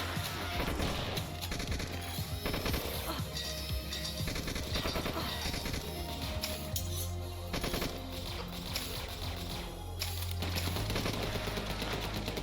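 Booming shotgun blasts and chaotic combat noise in the cyberpunk melee-focused boomer shooter Beyond Sunset, a dense, continuous wall of loud shots and crashes with no clear breaks.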